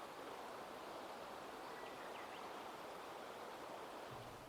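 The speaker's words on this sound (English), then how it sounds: "If I would shut up, you could hear the river." A river in full spring flow, a steady even rush of water, soft and continuous with no voices.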